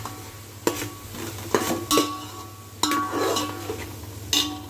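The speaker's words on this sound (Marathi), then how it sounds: "खोबरं आलं लसूण हे सगळं मिक्स करून घेतलेलं आहे चांगलं परतून घ्यायचं आहे" A mixture of coconut, ginger and garlic is sautéed with onion for a Satara-style misal. A soft background sizzle runs under it, with a spoon tapping and scraping the pan about six times at uneven intervals and no talk.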